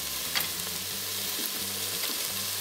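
Chopped tomatoes fry in an Instant Pot with a soft, steady sizzle and light stirring, fairly quiet, over a low, pulsing electrical hum.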